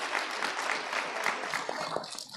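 Applause from the audience at a panel discussion on participatory democracy, a dense crackle of many hands clapping at moderate volume, thinning slightly toward the end.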